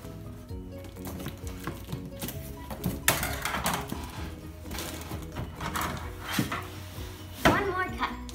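Box packaging for a VEX IQ Next Level robotics kit being cut open, with repeated scraping and slicing strokes and a few sharper rustling bursts, close and moderately loud over a steady low background.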